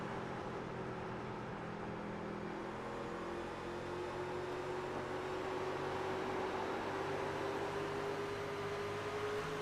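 Racing trucks run laps at Phoenix in a steady, droning engine roar with a slowly rising tone as they enter a turn side by side. The sound is continuous and moderately loud, with no voices heard.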